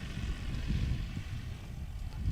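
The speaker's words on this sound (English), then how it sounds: "Look at that Stinson coming in tight." A Stinson airplane comes in to land during STOL practice in the Appalachian Mountains, its propeller engine a steady, fairly loud low rumble with wind buffeting throughout and no voices.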